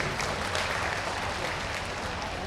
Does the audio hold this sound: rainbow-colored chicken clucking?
no